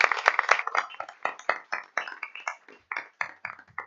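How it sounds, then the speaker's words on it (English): A small scattering of applause at a school board of education meeting, a few people clapping unevenly at moderate distance, the claps thinning out and trailing off over a few seconds. "So let's give them a round of applause."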